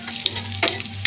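Onion and garlic sauté in a pan, giving a steady low sizzle with a few brief scrapes or stirs over about a second and no talking.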